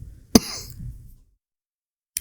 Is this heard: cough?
yes